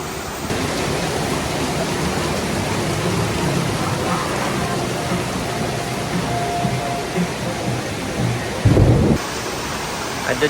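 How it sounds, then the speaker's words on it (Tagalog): Heavy tropical downpour with rumbling thunder, a loud, steady roar of rain throughout with a deeper thunder rumble building in the background and a brief, louder burst near the end, with no clear speech. "Baka matakot sa kulog."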